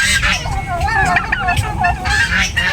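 Young turkeys about four months old call and honk in a busy cluster just after being let loose, with overlapping gobbling cries continuing nearby for the whole stretch.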